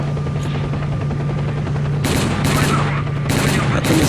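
Gunfire aimed at a helicopter in S.T.A.L.K.E.R. Clear Sky: dense, loud bursts of shots come in repeated clusters over a steady low rotor drone that runs throughout.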